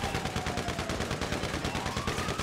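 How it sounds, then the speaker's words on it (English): Rapid machine gun fire from a GTA 5 police shootout, a dense stream of loud, evenly spaced bursts running continuously throughout with no talking. "big gun. Machine gun fire."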